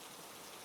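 Steady rain falls in a faint, even hiss of drops with no pauses or voices.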